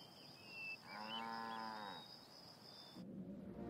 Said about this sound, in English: the most European of farm animals, the dairy cow